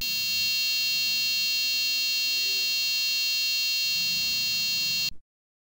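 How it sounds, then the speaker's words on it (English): A piezo buzzer driven by an STM32 microcontroller emits a steady, loud high-pitched tone that holds unbroken for about five seconds, then cuts off abruptly into silence. "now you can hear the sound produced by the buzzer"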